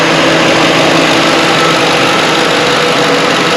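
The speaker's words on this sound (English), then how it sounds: "I got the engine running. The fan kicked on." A Lincoln Town Car engine idles steadily with its radiator fan running on low, a loud continuous broadband whir and hum with a faint tonal drone underneath, close and unbroken throughout.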